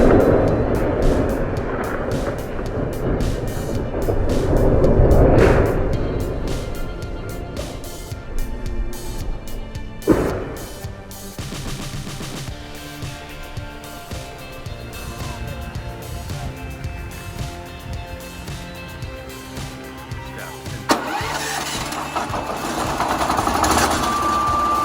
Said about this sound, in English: This Hartnett petrol log saw is a game changer. We're talking about a robust 13 horsepower engine